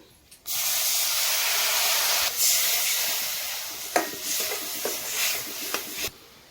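Water poured into a hot pan with turmeric, masala and salt for a leftover-chapati breakfast sets off a loud, steady steaming hiss that lasts about six seconds, with a few soft knocks near the end before it cuts off.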